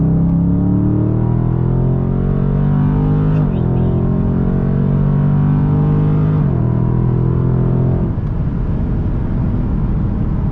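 Dodge Scat Pack with an 8-speed automatic transmission: a loud, close V8 drone climbs in pitch, then drops sharply at each of three gear changes before rising again.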